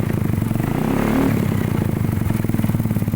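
A motorcycle fitted with a genuine 5LW CDI box idles steadily just after starting, a close, even putter with a slight rise in revs partway through and continuous mechanical clatter.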